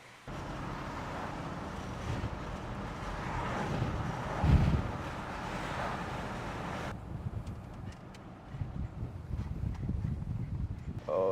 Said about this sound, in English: it's still real windy out here